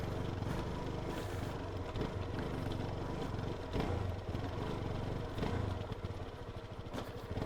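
Suzuki DRZ4S dual-sport motorcycle ridden off-road on trail and sand, its engine running steadily and fairly loud throughout, with rough, uneven surges and no voices.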